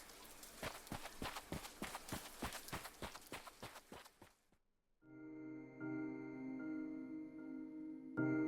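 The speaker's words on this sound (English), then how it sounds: "I ran towards my grandmother's house" Rapid running footsteps from a Japanese indie horror video game, a steady fast rhythm of sharp close steps for about four seconds, then a pause and a sustained tonal musical drone that swells toward the end.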